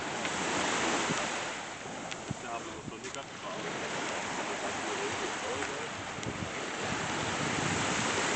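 Sea waves wash in steady broadband surf at a beach entrance to the sea, continuous and fairly close, with wind noise across the microphone and no clear talk.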